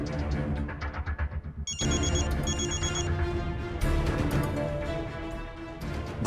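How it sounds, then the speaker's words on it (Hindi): A phone rings with an incoming video call in a Hindi TV drama scene, bright repeated electronic ringtone chimes cutting in over a loud music score. "बार बार कॉल क्यों कर रहा है,"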